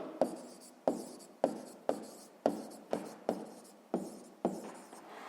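Pen or chalk strokes while writing numbers by hand in a sixth-grade math lesson: about nine crisp, evenly spaced strokes, each a sharp scratch that fades quickly, close and clear with no talk.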